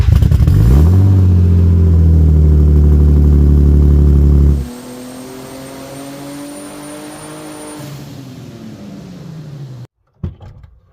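Rebuilt car engine fitted with an aftermarket turbocharger kit, loud and close, revving hard for several seconds before dropping to a steadier, quieter idle drone that cuts off near the end.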